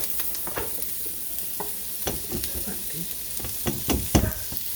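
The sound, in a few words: potatoes and zucchini added to a sizzling pot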